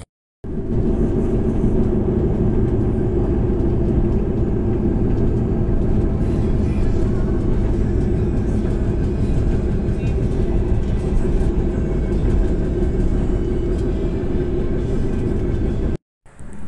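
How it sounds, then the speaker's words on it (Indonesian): The Mutiara Selatan passenger train departs Nganjuk station in East Java, Indonesia, early morning, with a loud, continuous low rumble and rattling, heard steadily from inside before cutting off briefly at the end. "kereta api Mutiara Selatan berangkat dari stasiun Nganjuk melanjutkan perjalanan"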